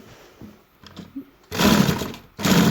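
A sewing machine runs in two loud bursts while stitching a one-year-old baby boy's kurta, after soft handling sounds, with a short pause between the runs.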